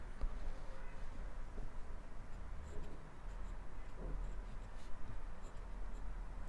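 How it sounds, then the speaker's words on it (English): A Chinese character being handwritten, with faint soft scratching pen strokes barely rising above a steady low hum and room noise, close but quiet, with no voices. "I will show you daily Chinese handwriting on the character 记 step by step"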